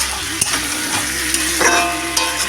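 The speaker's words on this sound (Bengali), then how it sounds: "একটু নাড়াচাড়া করে একটু হয়ে গেলে আমি নামিয়ে দেবো।" A spoon stirs mourala fish curry with potatoes in a hot pan, scraping sounds over a steady loud sizzle of frying, close up and without voices.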